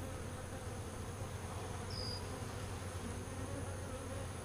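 Honey bees buzzing steadily in an opened beehive during a post-harvest inspection, a dense continuous hum heard close by without any talk.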